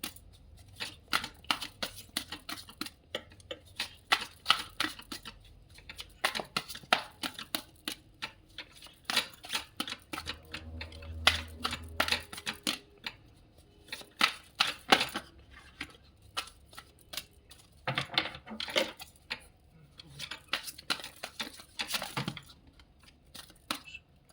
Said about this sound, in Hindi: कई कार्ड गिर गए हैं